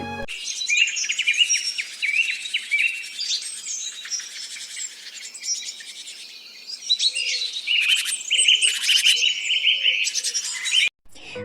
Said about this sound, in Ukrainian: Давайте послухаємо, як співають пташки.